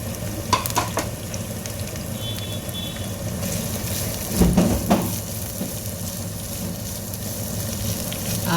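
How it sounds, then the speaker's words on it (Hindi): Capsicum and onion sauté in a pan for chicken jalfrezi, a steady close sizzle with a brief burst of stirring scrapes midway and no voices. "पहले शिमला मिर्च डालेंगे और प्याज डालेंगे बिस्मिल्लाह। इसको थोड़ा सा सौते करेंगे"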